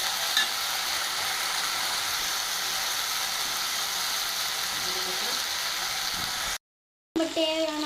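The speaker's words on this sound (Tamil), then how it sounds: "அதையும் போட்டு வதக்கிக்கலாம்." Ginger-garlic paste sautéing in a pan for an evening pasta snack, a steady close sizzle with stirring scrapes throughout, broken by a brief silent cut near the end before the frying resumes.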